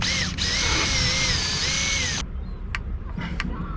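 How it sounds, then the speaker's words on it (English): A power drill whines steadily for about two seconds pre-drilling wood on a wooden boat restoration, loud and close, then stops, followed by a few brief clicks and light handling sounds. "I am going to pre-drill just like any proper carpenter would"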